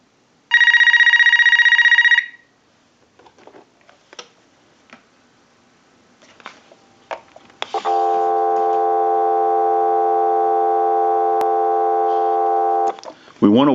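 On an AT&T 5450 cordless telephone, a short ring burst gives way to clicks and handling noise, then a steady dial tone hums for about five seconds before a quick beep at the end.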